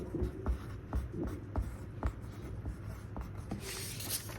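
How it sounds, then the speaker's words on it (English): Pencil or pen writing a word on paper in a quiet room, a steady run of soft scratching strokes with small taps between letters and no talk. "So I'll write that down right here."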